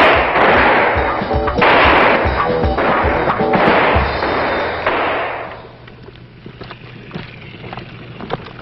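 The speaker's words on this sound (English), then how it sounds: "This is one of many opportunities the recruits will have to qualify with their rifle." Marine recruits firing rifles at a qualification range: loud overlapping gunfire in a dense, sustained roar that fades into quieter scattered shots and range noise, with no talking.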